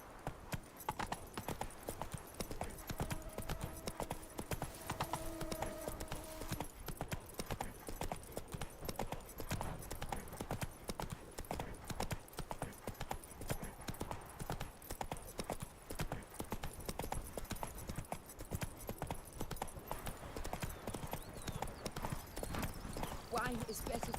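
Roach, the horse in The Witcher 3: Blood and Wine, trotting with steady clip-clop hoofbeats that run throughout, mixed with game music and ambience, while a voice talks over it at times.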